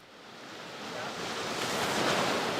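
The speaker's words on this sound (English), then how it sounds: "the sound of melting water rushing off the glacier turned into a roar" A torrent of meltwater pours off a glacier in a broad, swelling roar of rushing water that grows louder and nearer over a couple of seconds, with no voices.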